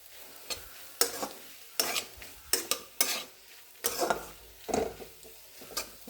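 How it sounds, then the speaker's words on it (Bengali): A mayonnaise mixture for a sandwich filling is stirred in a pan off the heat, giving a series of sharp scraping and clicking strokes at a loose, uneven rhythm, close and moderately loud. "মেয়োনিজ দিয়ে ভালো করে এটাকে মিশিয়ে নেব।"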